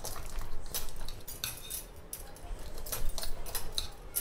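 Roasted garden cress and fenugreek seeds being pounded, giving a close run of sharp metallic clinks and knocks at an uneven, steady pace with no talking.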